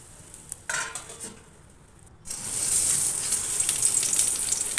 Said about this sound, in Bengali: আমি এখানে অল্প কড়াইতে অল্প ঘি দিলাম দিয়ে লিট্টিগুলো দিয়ে দেবো